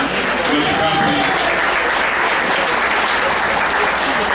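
Audience applause congratulating company employees at a 2017–2018 kickoff event, dense steady clapping from a large crowd filling the whole stretch at constant loudness.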